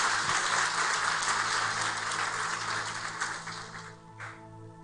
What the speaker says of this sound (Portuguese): Palmas bem fortes para Ele.